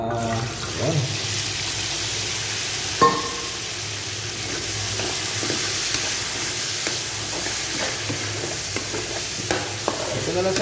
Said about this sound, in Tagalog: Isunod na natin tong mga carrots natin. Igisa muna natin to sa mga guys.